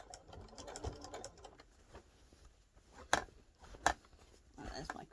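A sewing machine stitches binding around a quilt, pivoting at a corner, in short bursts of whirring with a couple of sharp mechanical clicks, close and moderately quiet.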